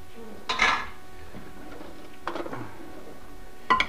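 A turkey cutlet served onto a plate with pasta, marked by a few close clinks and scrapes of utensil on dishware spaced apart over a steady low room hiss.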